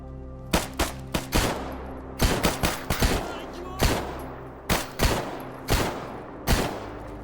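Gunfire in the survival shooter S.T.A.L.K.E.R. GAMMA: loud, sharp shots fired singly and in quick pairs and short bursts at irregular intervals, fairly close, over a low ambient hum.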